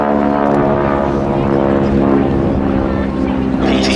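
A BT-17 propeller trainer aircraft flies past at the Duxford Battle of Britain airshow, a loud, close, throbbing engine drone with a slowly shifting pitch that fills the whole stretch.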